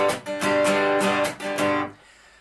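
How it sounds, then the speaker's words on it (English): Acoustic guitar strumming an upside-down jig pattern for Irish or Scottish folk accompaniment, with palm-muted offbeats: three loud rhythmic strummed bursts in a lilting triple feel, played alone with no voices. "There is another top secret jig pattern, which is my own invention and sounds like this."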